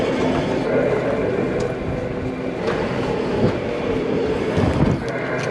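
A truck trailer's walking floor runs off the PTO, a steady low mechanical rumble and rattle that holds constant throughout, blurred by heavy wind buffeting on the microphone outdoors.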